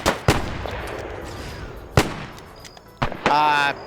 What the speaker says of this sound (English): you're seeing right now how effective that submachine gun is